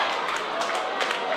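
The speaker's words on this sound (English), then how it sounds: "There was a big sigh in the crowd" Crowd at a country women's football match reacting as a kick strikes the post, a broad sustained murmur and groan of many voices with scattered claps, steady and moderately loud throughout.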